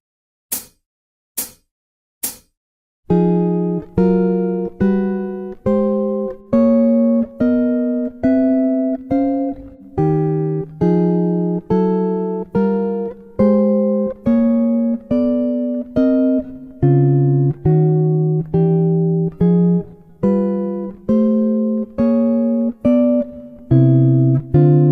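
An electric guitar plays walking chords on the first, second and fourth strings. Three quick clicks count in, then a steady pulse of short, clean plucked chords follows, each clearly separated and moving through shifting voicings.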